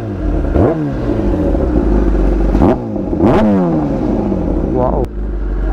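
A Kawasaki ZX10R with a full-system Akrapovic titanium exhaust, close by and loud, idles with a deep burble and is blipped into several sharp revs that rise and fall at intervals.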